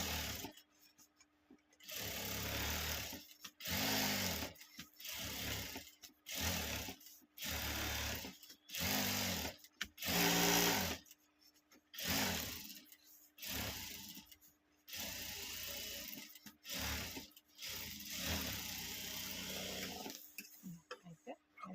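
A sewing machine stitches around the edge of a small cloth pouch sewn from waste fabric scraps, running in repeated short bursts with brief pauses between them, close and fairly loud.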